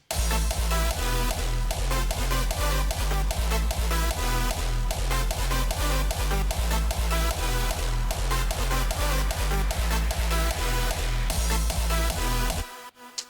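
Hardstyle drop built in FL Studio 20, with a fill effect and reversed G kick sweeping in: loud, dense, distorted kicks pounding steadily under bright saturated synths, cutting off abruptly near the end.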